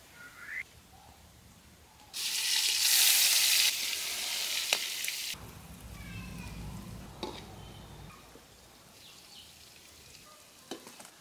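Shrimp fry in oil with chili powder and salt in a pot, a loud hissing sizzle bursting in suddenly and settling into a lower bubbling fry, with some brief quiet talk before it.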